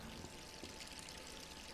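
Tap water pours steadily from a faucet in a Resident Evil 3 bathroom, a continuous, fairly loud broadband rush with no pauses.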